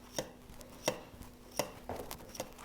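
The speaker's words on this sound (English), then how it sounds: "We want to make sure we only carve the fat." A sharp knife scores the fat on a rack of lamb, giving five crisp, evenly spaced cuts or taps against a board, close and moderately loud with quiet gaps between strokes.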